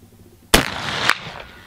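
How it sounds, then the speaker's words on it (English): Single sharp report from a .58 caliber muzzleloader rifle fired offhand at a target range, one close, loud blast followed by a short rolling echo, with no talking. "I'm gonna try an offhand shot"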